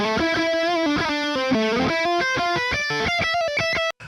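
A distorted electric guitar, re-amped through hardware effects pedals, plays a quick melodic riff of picked notes through heavy effects, loud and up front, stopping abruptly at the end.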